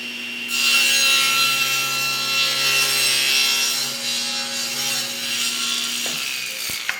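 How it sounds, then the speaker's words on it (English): A SawStop table saw cuts a miter across wood for a trophy base, its motor humming steadily as the blade bites through the board for several seconds, then winding down with a small clunk at the end, close and loud. "That's how I cut the first miter on the sides of the trophy base."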